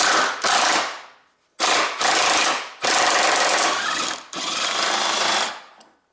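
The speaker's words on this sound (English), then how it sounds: "I can remove those bigger body bolts, 2 pieces, and socket size is 17 mm, and there is my longer extension" A power tool loosens the larger body bolts of a left engine mount on a Honda Civic with a 17 mm socket on a long extension: four loud, close whirring, rattling bursts separated by brief pauses, with no talking.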